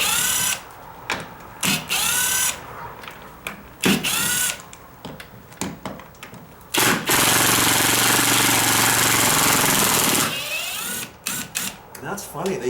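Power drill backing screws out of a door hinge: a sustained high whine of about three seconds in the middle, surrounded by shorter drill bursts, clicks and handling noise, with someone speaking between them.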